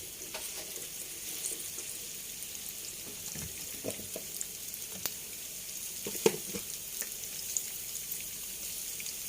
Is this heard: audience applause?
no